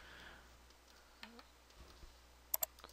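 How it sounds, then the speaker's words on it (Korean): Two quick, sharp computer mouse clicks sound close together near the end while a SketchUp drawing is made, in an otherwise quiet room with faint background hiss. "클릭."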